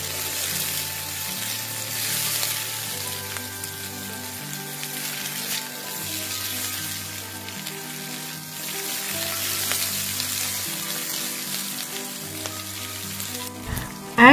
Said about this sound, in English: Then stir as often as possible to prevent the vegetables from sticking to the bottom